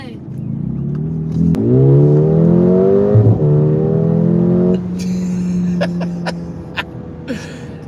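A car launches from a standstill, its engine revving and accelerating hard, pitch climbing through gear changes, then settles to a lower drone as a voice speaks briefly.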